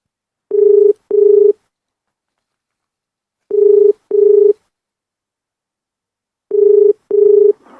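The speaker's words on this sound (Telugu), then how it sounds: "ఎస్ఐ గారికి కూడా ఫోన్ చేసి చెప్దాము" A telephone keypad dials out to call the police, sending three clear pairs of short electronic tones, each pair separated by a few seconds of silence.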